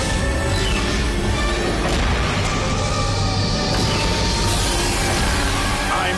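A cartoon flying fortress, the Egg Carrier, blasts off with a loud sustained roaring rumble of engines and heavy booming thrust, dense and continuous throughout.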